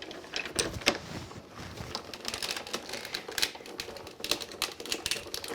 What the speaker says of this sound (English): You can hear it embossing there.